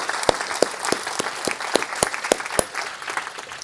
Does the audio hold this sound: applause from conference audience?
yes